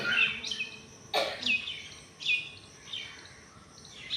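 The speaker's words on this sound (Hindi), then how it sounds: "पक्षियों के आवाज में भी ध्यान कर सकते हैं।" Birds sing outdoors during a yoga session, a few bright chirps and short trilling phrases spaced through a few seconds, clear and fairly near over a quiet background.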